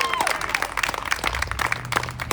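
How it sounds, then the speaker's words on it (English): Audience applause at a community center event, a burst of crowd clapping with scattered sharp claps and murmuring voices in a large room, with a voice faintly under it. "Please give a warm Lancaster Avenue round of applause to Council Member Jamie Gautier."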